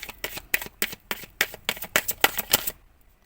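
Tarot cards are shuffled in a quick run of about a dozen crisp, close riffling snaps over roughly three seconds, then stop, leaving near silence.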